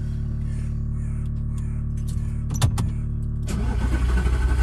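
An Audi R8 fitted with a new TopGear F1 exhaust with wired-up valves churns on the starter and catches, jumping into a loud, steady idle that holds to the end.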